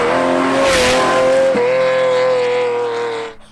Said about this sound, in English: it's got a Kreisig exhaust, which I'm told makes this Ferrari sound